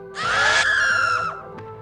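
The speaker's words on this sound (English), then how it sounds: "paralyzing Link with a terrifying scream or gaze" A re-dead zombie from a Zelda video game lets out a single loud, shrill, wavering scream lasting about a second, close and alone, then cutting off sharply.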